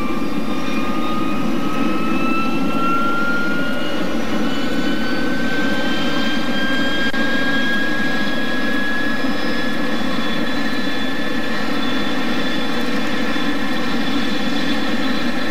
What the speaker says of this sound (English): to start one of the engines, we hit the start button and it fires up